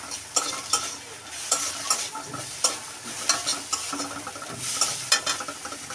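Carrots and shredded boiled chicken breast sizzle in a pan with bay leaves and ginger-garlic paste for soup, with a spoon scraping and stirring in repeated sharp strokes over a steady frying hiss.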